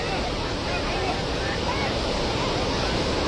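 A flooded river in Nepal rushes past in a continuous, loud broadband roar with no breaks, close and overwhelming for the whole few seconds.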